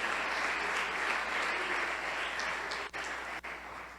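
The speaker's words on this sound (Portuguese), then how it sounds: "Aplauda Jesus por isso." A church congregation applauds in a dense, sustained wash of clapping that fills the room, holding steady and then easing slightly, with a couple of brief dips near the end.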